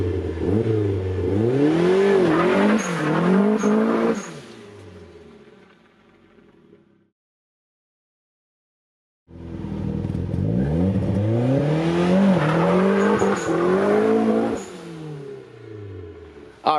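A turbocharged Mazda Miata with a Torsen limited-slip differential launches up a driveway, engine revving hard through rising pulls, falling quiet, then roaring again in a second loud run.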